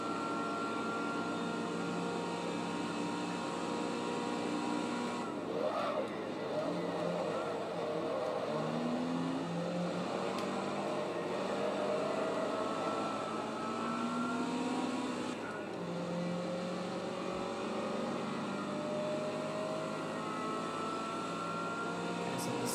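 Toyota Celica race car engine in Forza 2, droning steadily with rising and falling revs through gear changes, loud and continuous, with other cars audible alongside.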